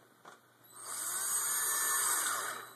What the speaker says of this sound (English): I'm going to use my drill again, because these ones don't really matter to me